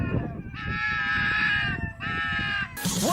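A fox gives two long, loud, harsh screams in a row, each drawn out for over a second, with a shorter burst at the end; a person's voice talks around it.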